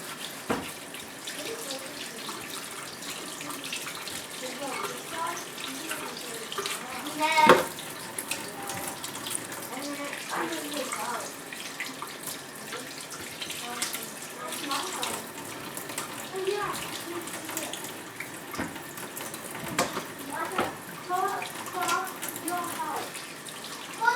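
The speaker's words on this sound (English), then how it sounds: "I can just wash my hands." A kitchen tap runs steadily while hands are washed beneath it after cooking, giving continuous splashing water with occasional clatters and shifts in flow; some speech is heard over it.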